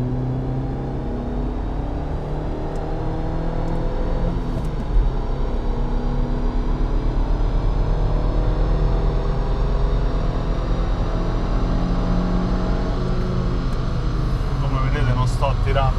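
An original 17-year-old Audi S3 with 230,000 km runs at high speed on a dynamometer, nearly 180 km/h, making a loud, steady whining engine drone that rises slightly while someone talks over it.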